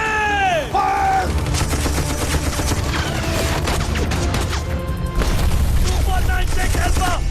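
Battle gunfire in a 1965 war film follows a shouted firing order, with rapid overlapping shots and booms in a dense fusillade; raised voices sound briefly at the start.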